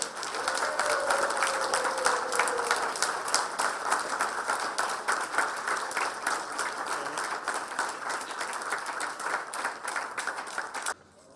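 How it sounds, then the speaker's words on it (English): An audience applauds at a Marriott hotel opening in Georgetown, steady, moderately distant clapping that runs unbroken before cutting off abruptly at the end. "Let's have a real round of applause."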